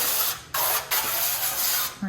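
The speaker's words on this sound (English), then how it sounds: "So I just have this Chosen Foods avocado oil spray." A can of Chosen Foods avocado oil cooking spray lets out several short hissing bursts close up, each lasting a fraction of a second with brief gaps between them, under a steady background noise.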